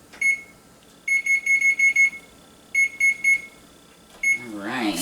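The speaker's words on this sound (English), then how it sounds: "Let me just set the timer here." A kitchen timer being set while food bakes in the oven: clusters of sharp, high electronic beeps in short bursts, loud and close, with a brief rustling noise at the end.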